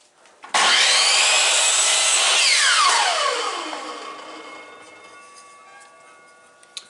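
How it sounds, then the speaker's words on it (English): A table saw rips through a spruce 2x4 in one loud, close cut, the high whine holding steady, then dropping in pitch as the blade spins down, and a small knock at the end. "Now let's cut them to length."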